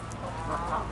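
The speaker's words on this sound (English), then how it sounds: "there are ducks playing in the pond" Ducks on a zoo pond give short, clucking quacks at a moderate distance over a steady outdoor background hum, with no talking.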